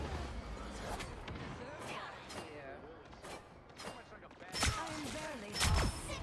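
Gunfire in the video game Marvel Rivals: a quick run of faint shots under game effects and voice chatter, then two louder, sharper bursts near the end.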